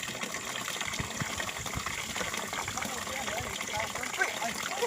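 Spring water flowing in an outdoor setting, a continuous broadband wash of running water with small splashy transients throughout, steady and close, while someone drinks from it.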